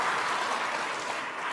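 A snooker crowd applauds Ali Carter during a tournament final, steady clapping from a full hall filling the whole moment with no break.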